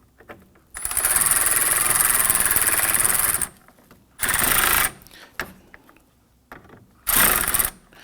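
A power ratchet snugs down the active grille shutter fasteners on a 2015-2020 Ford F-150, three loud, close bursts of rapid clicking whir, the first long and the next two short, with quiet gaps between.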